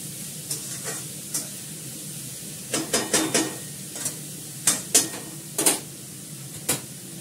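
Papaya and potato fry in a pan with a steady sizzle, broken by repeated clattering scrapes of a spatula stirring, some in quick bursts of three or four.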